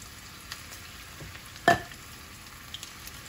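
Meatballs frying in hot oil in a cast iron pan give a soft, steady sizzle, with one brief louder crackle partway through and a few small pops.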